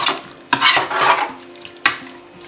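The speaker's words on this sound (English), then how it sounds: "Just put more crayfish and then give it a good stir." A spoon stirs Nigerian egusi soup in a pot after crayfish is added, giving a few scraping, clattering strokes close up with short pauses between them.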